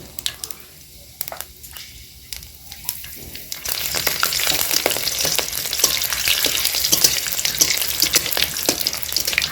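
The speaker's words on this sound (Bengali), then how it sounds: "দেখুন তেল গরম হয়ে গিয়েছে পাঁচ ফোটন আর তেজপাতা দিয়ে দেবো কাঁচা লঙ্কাটা দিয়ে দেবো" Panch phoron, bay leaf and green chili hit hot oil in a pan for a vegetarian banana-stem and fig dish, with a few clicks followed by a loud, continuous crackling sizzle close by.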